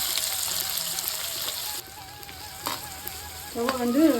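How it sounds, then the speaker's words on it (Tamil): Onions sautéing with curry leaves in hot oil on medium flame, a steady hiss with soft stirring scrapes and a louder burst of sizzle near the end. "இதில் அடுத்ததாக வெங்காயத்தை வதக்கிக்கணும்"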